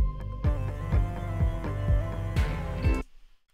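Several layered synths build a transition sound in a song, sustained tones struck by short repeated pulses, then cutting off abruptly into near silence.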